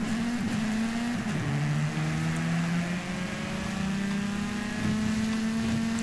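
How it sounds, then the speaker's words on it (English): A Ford Crossworth racing through jungle in Forza Horizon 5, its engine held at high revs with one clear gear change early on, then a steady climbing drone, loud and unbroken with no talk. "Racing a Ford Crossworth."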